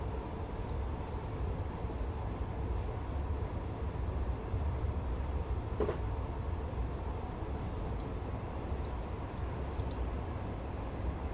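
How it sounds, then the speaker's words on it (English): A Class 156 diesel multiple unit in Train Sim 2019, coasting on the Acton to Slough line, gives a steady, continuous low rumble and hiss throughout, with no voices over it. "So let the train coast for a bit."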